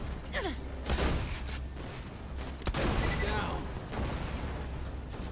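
Bursts of booming, crackling blasts from a shield explosion in the video game Borderlands 2, with layered explosive rumble and sharp impacts over a steady low hum.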